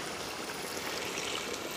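Water poured into a pot of pumpkin and turkey neck while cooking, a steady broadband trickling and gushing that runs continuously at moderate level with no talk.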